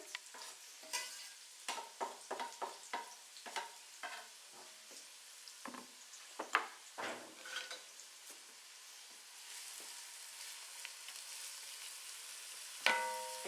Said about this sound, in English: we're going to add the onion to this. And we're going to let that brown, not brown, but just cook till it becomes translucent.